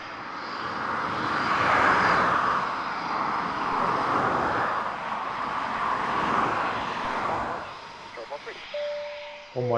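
Eurofighter Typhoon jet at RAF Coningsby roaring overhead, a broad sustained rumble that swells and fades at a distance, with voices talking over it toward the end.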